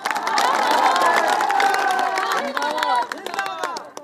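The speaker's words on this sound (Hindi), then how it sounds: "एक बार जोरदार तालियां और नारा के साथ दीजिए" A political rally crowd cheers and shouts slogans in a dense, loud roar that fills the whole stretch, easing off near the end, with scattered shouts rising over the din.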